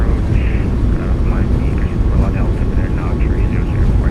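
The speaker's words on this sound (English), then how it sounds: "Goes down gently, reversers are out." Boeing 737 MAX 8 thrust reversers roaring after landing in Microsoft Flight Simulator 2024, a loud, steady broadband rush that holds for the whole stretch, with a voice talking over it.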